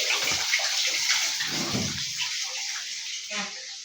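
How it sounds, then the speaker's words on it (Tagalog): Strong running water gushes steadily outdoors during cleanup, a loud continuous splashing rush with faint low bumps and no talk. "Ang lakas ng tubig dito."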